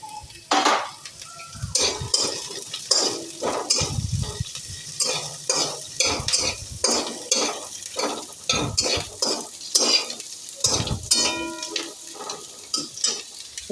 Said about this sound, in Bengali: এবার দিয়ে দিচ্ছি এই তেলের মধ্যে পেঁয়াজ